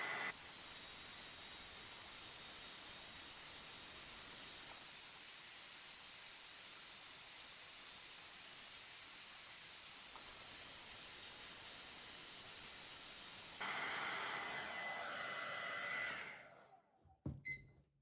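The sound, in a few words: hair dryer heating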